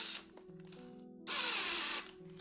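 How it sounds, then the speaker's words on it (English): A paint shaker running in short bursts, a buzzing mechanical whir that starts, cuts out and starts again at close range in a quiet room. "Oh, and I need my paint shaker."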